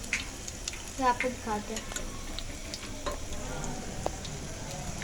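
Chicken pakora fries in hot oil with a steady, close sizzle and some crackling pops, while a person talks over it.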